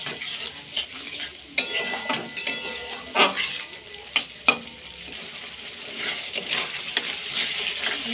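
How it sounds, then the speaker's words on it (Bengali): Spice masala cooking down in a pan with a splash of water sizzles and spits up close, with sharp scrapes and clinks of a spoon against the metal pan at uneven intervals. "দিয়ে এবার মশলাটা একটু ভালো করে কষাবো"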